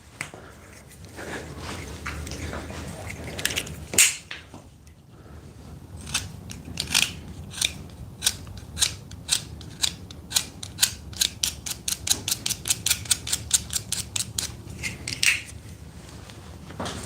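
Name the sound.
sharpening a pencil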